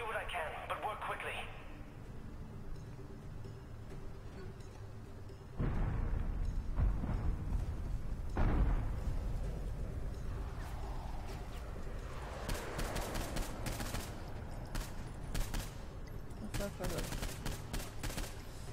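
Bombing of a compound in Saints Row IV, heard as a busy stretch of gunfire and sharp blasts that swells louder partway through, with voices talking over the combat.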